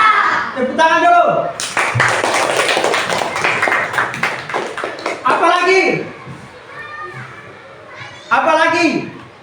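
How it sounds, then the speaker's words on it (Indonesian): A classroom of children bursts into a loud burst of hand clapping, flanked before and after by a teacher's voice and children's chatter. "Tepuk tangan dulu."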